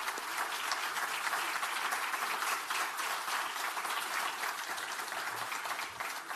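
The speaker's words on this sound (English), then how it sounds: "Please give the panel a big round of applause." Audience applause for a panel at the Bled Strategic Forum in Slovenia, a steady, even wash of many hands clapping, moderately distant and sustained throughout.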